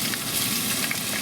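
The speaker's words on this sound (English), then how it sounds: "Pan of oil, we'll add some onions." Onions sizzling in hot olive oil in a pan, a dense continuous crackling fry heard up close with no voices.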